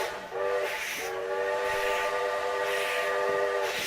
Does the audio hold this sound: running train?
yes